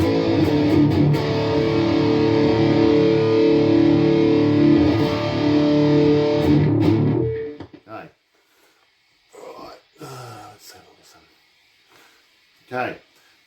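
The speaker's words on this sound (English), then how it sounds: "Let's go something a little bit heavier. So we'll go metal distortion." An electric guitar played through a Boss Katana amp on a metal distortion setting rings out in heavy, sustained chords for about seven seconds, then cuts off, followed by a few short, quieter picked notes and pauses.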